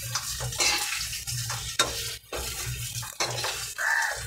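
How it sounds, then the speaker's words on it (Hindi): Chili flakes being stirred into a fry dish in a pan, repeated scraping and clattering strokes of a spoon against metal over a faint sizzle, close and alone. "और इसको मिक्स कर लेंगे।"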